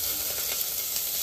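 Cumin, royal cumin and asafoetida sizzle in hot oil with a steady, close hissing crackle that holds even for the whole brief moment, no talk.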